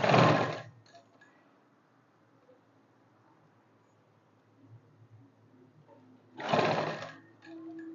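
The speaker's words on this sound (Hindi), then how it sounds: "तो इस तरह से मैं ये सिलाई कंप्लीट कर लूँगी।" A sewing machine stitching a dhoti salwar runs in two short, loud bursts, one at the start and another after a long quiet pause, with faint handling noises in between.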